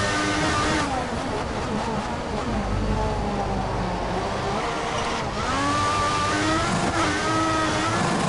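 A Marussia Formula 1 car in F1 2014 screams around the Bahrain circuit, a loud continuous high-revving engine whine rising and falling through gear changes, with faint commentary-like voice underneath.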